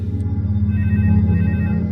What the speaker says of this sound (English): Her private phone rang.